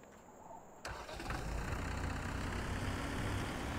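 A tractor engine in Farming Simulator 2017 starts up after a short quiet moment and then runs at a steady, loud, rumbling idle with no talk.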